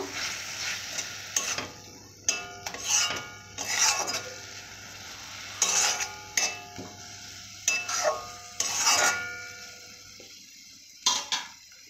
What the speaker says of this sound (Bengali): এরপর আলু ছিলাটা দেব। দিয়ে এইভাবে নেড়ে চেড়ে নেব।